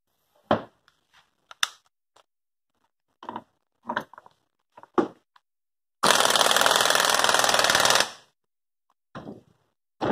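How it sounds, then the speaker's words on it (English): An impact wrench runs in a ball joint on a Mopar A-body disc brake conversion with one loud, close rattling burst of about two seconds, set among scattered clinks and clunks of parts being handled. "So we'll run that in with the impact."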